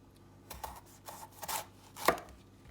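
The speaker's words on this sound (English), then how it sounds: "next we're gonna go ahead and cut our peppers" A knife chops fresh peppers on a board, five or six crisp, separate cuts in uneven rhythm, the last the loudest, heard close and alone with no talking.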